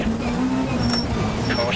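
A Peugeot 306 Maxi Kit Car engine in Richard Burns Rally holds a loud, steady drone, shifting pitch slightly as the car drives, with co-driver and player voices talking over it.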